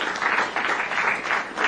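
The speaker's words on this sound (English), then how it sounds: "Maybe give them a round of applause." Applause for athletes at a European Athletics U23 Championships press conference in Bergen is a short, dense burst of many hands clapping, moderately loud and steady.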